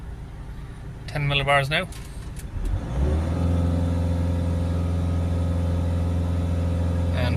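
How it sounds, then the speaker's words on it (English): A Peugeot Boxer 2.0 diesel van engine settles from a rev down to a steady, close idle, its low drone holding constant under a brief spoken remark near the start. "Let it idle down now. Let's see where it idles down to."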